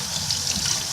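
Running tap water splashes steadily over rainbow chard leaves being rinsed, a close, continuous trickle and gush with no voices.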